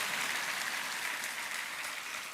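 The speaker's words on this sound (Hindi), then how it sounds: "तो हम जोरदार तालियां आमंत्रित करेंगे।" Steady audience applause fills a large live gathering, a continuous wash of many hands clapping at an even level from a distance.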